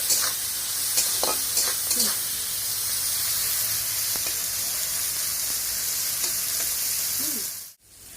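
Spices with onion, garlic, tomato and chili fry in a pan for greens paste, giving a steady close sizzle with intermittent stirring scrapes, alone and without talk until a short drop near the end.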